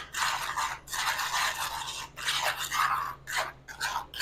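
Fresh, never-opened breadcrumbs being stirred around with green tomato slices: a dry, gritty scraping and crunching, close up and steady, with brief pauses between strokes.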